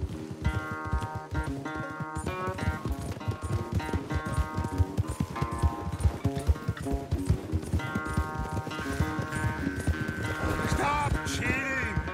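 Horse galloping during a race in Red Dead Redemption 2, with a steady, continuous clip-clop of hooves mixed under a loud, busy bed of game music throughout.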